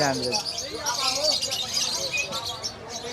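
Pet birds chirp at a bustling Malabon pet market, including lutino opaline lovebirds, with bright repeated tweets and calls mixed among nearby voices of traders and buyers talking throughout.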